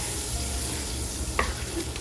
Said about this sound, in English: Now take 2 tablespoons of butter and add it to your skillet.